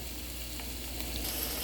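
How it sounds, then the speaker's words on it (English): Tomatoes fry in olive oil in a pan over medium heat, giving a steady, close, dense sizzle that continues without break and without talk. "you can see it sizzling away. You can see the olive oil in there and we have our tomatoes"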